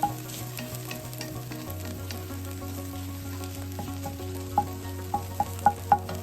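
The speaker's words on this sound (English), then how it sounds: "Just cook it for a few seconds just to heat it through. Release some of those aromatics from that" Garlic sizzles steadily in a hot pan for a mushroom French dip, a constant crackling hiss with a few small clicks near the end, no voices.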